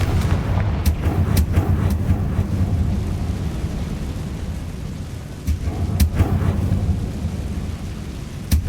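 Blasting spell explosions in the Hogwarts Legacy video game go off as a series of sharp booms over a dense rumbling, rain-like bed, some hits louder and closer than others.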